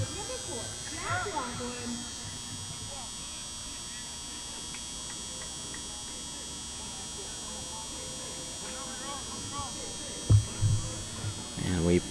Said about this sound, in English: we do apologize for the buzzing noise you hear in the background. That's because we are right underneath the stadium lights